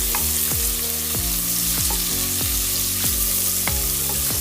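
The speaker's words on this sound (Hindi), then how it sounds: "लहसुन पेस्ट को सौते करना है।" Garlic paste sautéing in ghee or oil in a kadai for chicken manchurian, a steady close sizzle and frying hiss with repeated stirring scrapes of a spoon against the pan.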